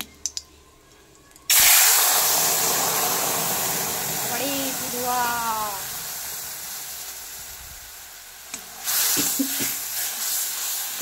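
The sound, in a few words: spice mix sizzling in hot oil with dried chilli and cumin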